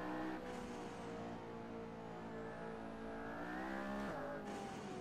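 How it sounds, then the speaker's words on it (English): A McLaren P1 hybrid hypercar driven in the Assetto Corsa racing game, its engine droning steadily with rising harmonic whine of turbo spool, continuous and loud throughout with a brief dip in pitch near the end. "You can hear that turbo spooling all the way."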